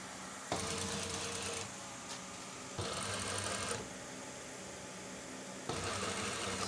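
A sewing machine stitching a two-piece shirt collar runs in three short bursts of rapid mechanical whirring separated by quiet pauses, close and clear.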